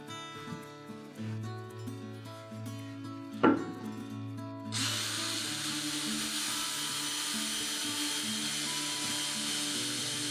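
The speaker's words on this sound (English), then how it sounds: "to show you that we can drill smoothly into the cured epoxy" A power drill boring into cured epoxy resin starts after a short tap, then runs as a loud, steady, broadband whir that holds evenly to the end, with faint music underneath.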